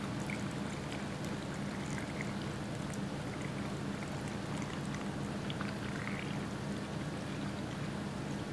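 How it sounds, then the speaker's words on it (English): Salt water brine is poured into a jar of carrots, a steady soft liquid wash running continuously at a low level with faint splashes. "now we're gonna pour our salt water in, and we're gonna go to just above the carrot line here"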